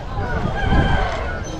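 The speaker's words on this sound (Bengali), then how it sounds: "দাদা এগুলো কি লড়াইয়ের মুরগি" Young fighting chickens clucking and calling at a busy village livestock market, close and loud amid crowd babble and people talking nearby.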